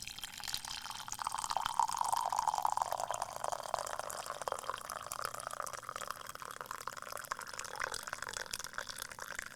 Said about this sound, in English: you were pouring a coffee right next to the mic